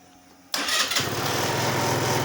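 A Kymco Like 200i scooter engine starts abruptly from near silence, then settles into a loud, steady, close idle with a continuous rumbling drone.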